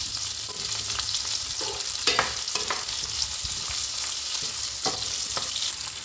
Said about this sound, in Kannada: ನೆಕ್ಸ್ಟು ಈರುಳ್ಳಿನ ಹಾಕಿ ಒಂದು 2 ನಿಮಿಷ ಚೆನ್ನಾಗಿ ಈ ಥರ ಫ್ರೈ ಮಾಡ್ಕೊಳ್ಳಿ